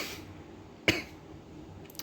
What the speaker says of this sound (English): Sorry for my cough.